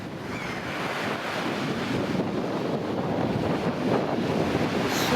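Stormy winter sea at Gelendzhik beach, with rough waves rolling and crashing in a continuous roar. Cold onshore wind buffets the microphone throughout, and the surge swells louder toward the end.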